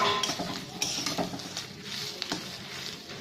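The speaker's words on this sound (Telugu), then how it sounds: "కరివేపాకు కూడా తడి అన్నీ లేకుండా పోయి వేగుతుంది అన్నమాట." Curry leaves and chillies frying in oil in a pan, a steady close sizzle broken by the scrape and clink of a spoon stirring.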